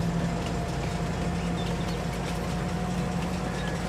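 A train runs in the video game, heard as a constant low rumble and engine drone with a faint steady hum, with no clear rhythm and no speech.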